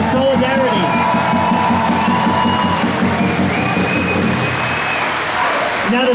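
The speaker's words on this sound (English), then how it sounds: "everyone here should give yourselves a round of applause for coming" Protest rally crowd in Sydney clapping and cheering, a dense, steady wash of applause held for the whole stretch and heard up close, with voices mixed through it.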